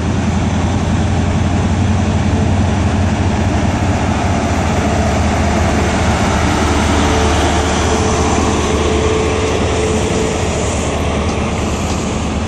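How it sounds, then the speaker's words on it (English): A CrossCountry HST passes through Exeter St David's station with a loud, steady engine roar and rumbling wheels that fill the whole stretch, close and continuous. "Oh, we got a cross-country HST as well"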